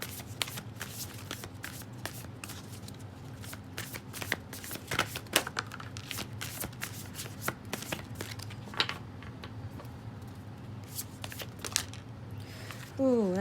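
Tarot spell casting cards being shuffled by hand, a steady run of quick riffling card flicks close by, with faint speech-like murmurs in the background.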